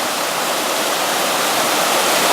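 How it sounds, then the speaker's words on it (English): Swollen mountain stream on Middle Prong Trail in the Smoky Mountains rushing downhill after rain, a loud, continuous roaring wash heard close with no voices. "it seems like we got quite a bit more water coming down than yesterday"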